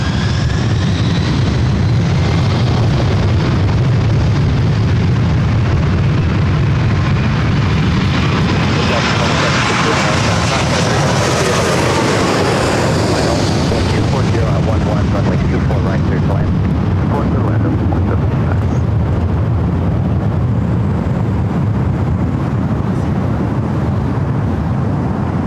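A Delta jet airliner, flight 2769, passes near the north side of LAX on a summer day, its broad engine roar swelling to a loud peak with a rising whine midway, then easing into a steady rumble.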